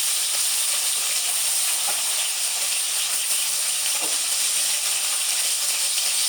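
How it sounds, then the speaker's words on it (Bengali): Hilsa fish tails frying in mustard oil in a pan, a loud, continuous bright sizzle and hiss that stays steady and close throughout, with no voices. "মাছগুলো ভাজা হচ্ছে।"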